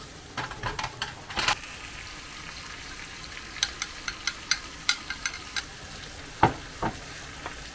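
Sauce in a frying pan on a home stove, simmering and reducing: a low bubbling hiss under scattered sharp pops and spatter ticks, close and moderately loud, with no voices.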